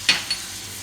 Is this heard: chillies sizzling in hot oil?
yes